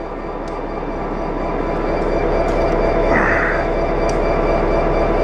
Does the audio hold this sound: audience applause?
no